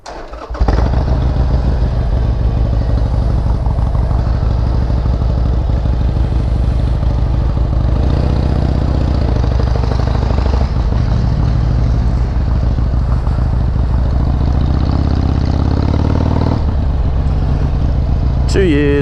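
A Harley Davidson XL883L motorcycle engine runs close by, a loud continuous low rumble that holds steady for nearly twenty seconds, with slight shifts in tone and some rattle.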